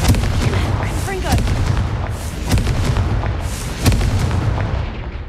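Repeated Confringo explosive spells in Hogwarts Legacy, several loud booming blasts spaced a second or so apart, each with a sharp crack and rumbling tail.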